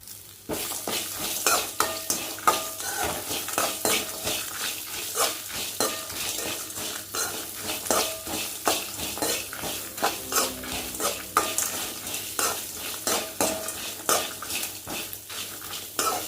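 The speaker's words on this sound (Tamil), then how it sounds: "ஒரு கைப்பிடி தேங்காய் துருவல் போட்டுக்கலாம்" Grated coconut frying in oil for a bottle gourd kuzhambu, stirred steadily with a utensil scraping the pan; a continuous sizzle runs under frequent metallic clinks and scrapes, close and moderately loud, with no talking.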